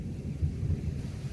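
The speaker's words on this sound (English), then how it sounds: "we are currently experiencing a thunderstorm" Low rumbling thunder rolls through a thunderstorm, a steady deep grumble with slight swells, fairly faint and without voices.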